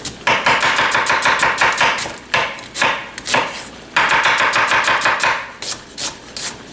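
Rapid knife chopping as an onion is cut into julienne strips for French onion soup, a dense run of quick sharp board taps in several bursts with brief pauses between them, close and loud, with no talking.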